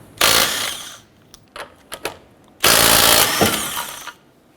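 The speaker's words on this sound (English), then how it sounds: "Using a 19mm socket, let's go ahead and remove our lug nuts." A power tool with a 19mm socket spins lug nuts off a 2008-2012 Honda Accord wheel in two loud, sustained rattling bursts, separated by a few short clicks and quieter tool noise.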